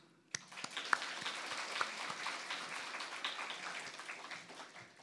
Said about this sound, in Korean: 우리 뒤에 박수.